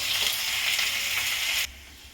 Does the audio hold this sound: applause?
no